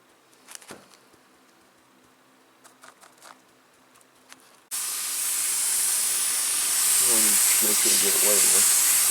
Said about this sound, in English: These are the onions that are being misted, making sure that we get them wet enough.